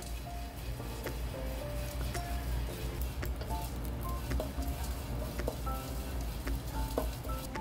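Small dried shrimp stir-fry in a pan for kimchi, giving a steady close sizzle with irregular scraping and tapping of a utensil throughout, no voices.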